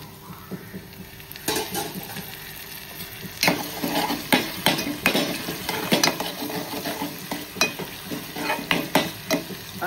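Tomatoes for a prawn rassa cook in a pan over low gas, a gentle sizzle punctuated by repeated spatula scrapes and clinks against the pan that grow busier in the second half, with no voices.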